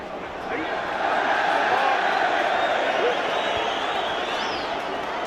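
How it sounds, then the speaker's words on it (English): A large football stadium crowd at a Hearts versus Hibs Edinburgh derby gives ironic applause for a free kick, a sustained roar, loud and continuous, rising and holding steady. "Ironic applause as Hearts are given a free kick."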